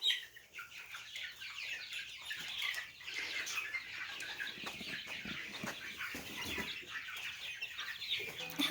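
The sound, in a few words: chickens clucking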